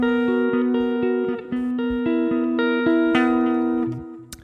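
Two chords on a distorted electric guitar, played slowly and evenly with sustained ringing tones and a slight shimmer of effects, close and alone.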